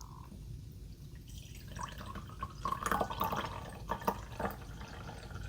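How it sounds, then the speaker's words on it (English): Masala chai tea poured into a large vintage mug, a soft close trickling and dripping of liquid that builds in the middle and fades with a few splashy drops, with no talk. "So let's pour some tea."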